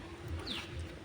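Pigeon cooing in an outdoor Eid setting, one short soft coo rising above steady background noise with a brief chirp-like whistle in the middle.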